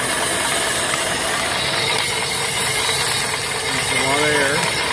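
Steady loud rushing hiss of a blower fanning air into the firebox of an off-grid live steam boiler with engine, a continuous broadband roar with faint mechanical ticking underneath and a brief whistling tone near the end.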